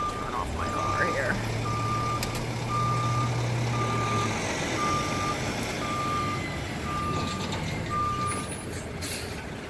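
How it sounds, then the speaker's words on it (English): A dump truck's reversing alarm beeps steadily in evenly spaced pulses in a small parking lot, with a low truck engine rumble underneath and a hiss like an air brake near the end. "y'all are gonna get to watch this dump truck come in"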